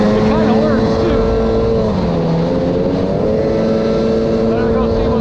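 A 1995–1996 Sea-Doo XP personal watercraft engine runs loud and steady, its harmonic drone wavering in pitch as the throttle shifts, with voices in the background.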